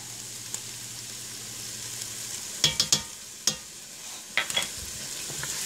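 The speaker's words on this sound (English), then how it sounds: "Now I'm going to put in a teaspoon of garlic." A teaspoon of garlic fries in a pan for Southern fried cabbage, a steady close sizzle broken by a few sharp utensil clicks and stirring knocks in the middle, with no voices.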